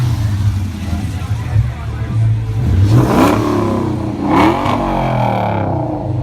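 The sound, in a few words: motorcycle engine revving with Lamborghini exhaust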